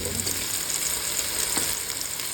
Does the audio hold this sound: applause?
no